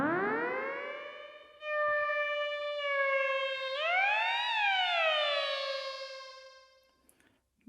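Moog synthesizer drone with full glide, played several octaves up: bright sustained tones that slide smoothly between pitches, steady and fairly loud, fading out at the end with no voices.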